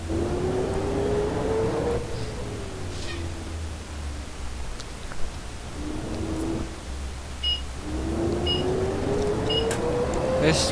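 Bus engine in a driving game on a modded Mid-City map, comparing a GMC and a Blue Bird Vision bus: a steady low drone with a rising and falling whine as the engine revs and shifts, continuous throughout with occasional beeps.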